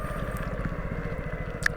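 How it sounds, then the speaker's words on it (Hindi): A motorcycle engine in fourth gear at very low speed, about 10 km/h, knocks and lugs toward stalling, producing a rapid, even, low chugging pulse throughout, fairly quiet and close. "कट कट के आवाज़ आ रही है, इंजन कर रहा है स्टॉल"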